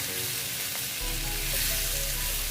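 Jackfruit curry sizzles steadily as it is sautéed in a wok, a continuous bright frying hiss with faint stirring scrapes throughout, close and fairly loud with no talking.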